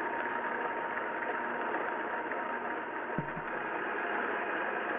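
An electric mixer blends butter for a Greek yogurt cake, a steady, even motor drone running unbroken throughout, close and moderately loud with a brief low bump midway.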